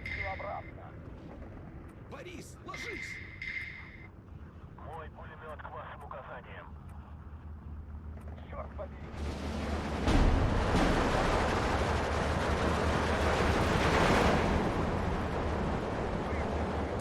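Bombs exploding on artillery pieces in the WW2 strategy game Steel Division 2, a rumbling wash of blasts that swells and holds loud in the second half, with someone talking over the earlier part.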